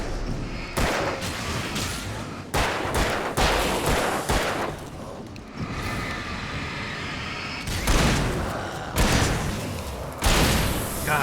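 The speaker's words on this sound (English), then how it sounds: "Flashbang!" Gunfire and explosive bangs from the video game Alan Wake, including a flashbang, come as loud, repeated bursts of booming shots separated by brief gaps, dense and harsh across the whole passage.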